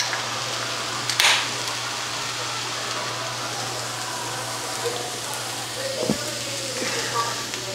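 Food for a bodybuilder's high day meal, including pancakes, sizzles steadily in a frying pan as a constant close hiss with a low electrical hum and a few faint clatters, and nobody speaks.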